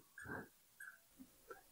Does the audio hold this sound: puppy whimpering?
yes